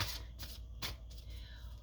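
Cards being shuffled by hand during a tarot-style full moon reading, a few quick riffling bursts close up with soft rustling in between and a quiet room tone underneath.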